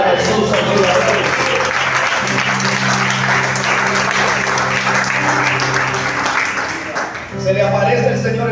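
A church congregation applauding, loud sustained clapping from a large crowd filling the room, with voices over it and a brief dip before the clapping swells again.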